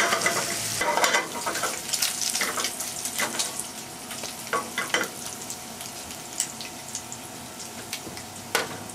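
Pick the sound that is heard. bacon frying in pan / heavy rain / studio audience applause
bacon frying in pan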